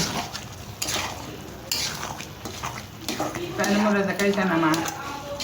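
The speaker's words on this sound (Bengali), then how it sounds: "এখানে নারকেল দিয়ে গুড় দিয়ে ভালোভাবে নেড়ে নিচ্ছি।" Grated coconut and jaggery stirred together in a pan for naru sweets, with repeated scraping and clinking of a utensil against the pan at an uneven pace, close by and partly under a speaking voice.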